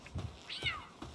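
A single cat meow rises and falls in pitch over about a second, close and clear, with faint low rustling around it and no talking.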